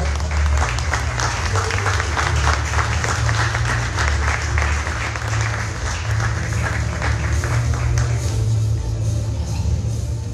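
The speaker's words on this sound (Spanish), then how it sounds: "denles un aplauso" A church congregation on its feet claps together in warm, sustained applause for two honored guests, a dense wash of many hands that keeps going steadily for the whole stretch.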